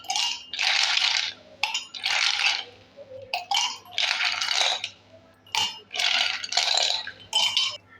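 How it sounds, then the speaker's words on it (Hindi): Handfuls of ice cubes clatter and rattle into a drinking glass in several separate bursts, close and fairly loud, with short pauses between drops while preparing a summer sabja seed sherbet. "और अब हमें ले लेना है इस तरीके से गिलास और इसमें डाल देना है बर्फ़ को।"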